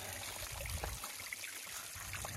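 Water trickling down a DIY concrete waterfall built with Quikrete, rock and a Harbor Freight pump: a faint, continuous burbling stream with small splashes, steady and close, no talk.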